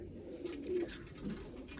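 Quiet, low cooing from loft pigeons drifts in a couple of soft, drawn-out calls at a moderate distance, fairly faint against a steady room hum.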